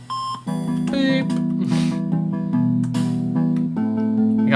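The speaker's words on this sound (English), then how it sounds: "You gotta love that hit sound" Game made with RSD Game Maker: a loud buzzy electronic hit effect of stepped, harmonic-rich synth tones, shifting pitch in several blocks with brief noisy bursts between them.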